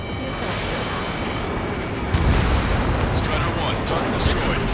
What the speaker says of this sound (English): Prepare the anti-aircraft batteries! Fire back!